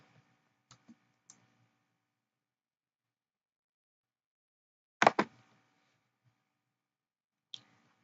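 A few sparse keystrokes on a computer keyboard, three light clicks early on, then a louder double tap and one last single press, separated by silence.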